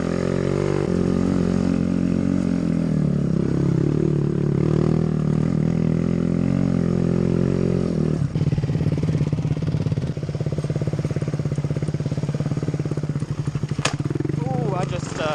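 A Yamaha WR450F dirt bike with a Honda Grom and Kawasaki Z125 small motorcycles on BMX trails, engines droning loudly and steadily throughout, the note dropping and roughening partway through as a rider comes off a ledge, with wind buffeting.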